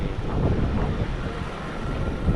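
Strong wind sweeps in off the sea on the Sri Lankan coast in the low season, a steady, close buffeting roar that rumbles across the microphone throughout with no voices.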